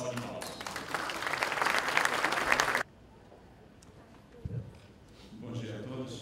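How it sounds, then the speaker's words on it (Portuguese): Audience applause at a telecom industry panel opening in Brazil, greeting the president of Anatel as he is invited up: dense, loud clapping for about three seconds that cuts off abruptly, followed by quiet room tone, a brief knock and faint stirring. "Peço uma salva de palmas"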